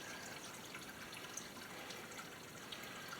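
Water trickling slowly and steadily into a 29-gallon fish tank, a soft continuous pouring wash with faint drips, fairly quiet and close, no voices.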